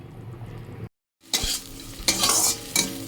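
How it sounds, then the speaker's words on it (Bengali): Okra (bhindi) frying in a pan, a loud hiss that cuts out briefly, then returns in bursts with scraping stirs and a few clinks. "ভেন্ডিটা ভাজা হয়ে যাচ্ছে"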